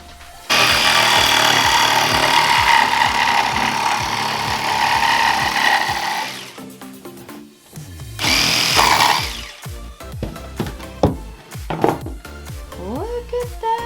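A power saw cuts boards in half during an attic makeover, a loud, steady whining cut for several seconds, then a second brief burst followed by scattered knocks and handling clatter of the wood.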